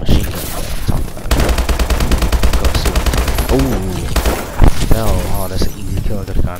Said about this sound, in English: And you gonna see the submachine gun that I'm talking about.